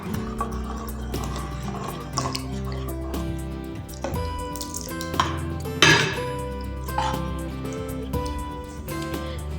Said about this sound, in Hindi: ये वाटर इसमें ऐड कर देंगे।